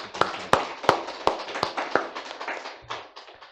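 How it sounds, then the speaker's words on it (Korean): A church congregation claps along in a steady rhythm, sharp, evenly spaced claps that are fairly close and start strong, then loosen and thin out toward the end. "우리 하나님 앞에 다시 한번 박수 한번 올려드릴까요?"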